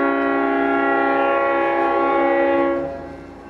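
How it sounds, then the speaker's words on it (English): A loud, sustained multi-tone Leslie S5T train horn on a V/Line N class train blares steadily for about three seconds, then cuts off and fades, heard up close at South Geelong with no voices. "There goes the nice old Leslie S5T horn on the end of the course."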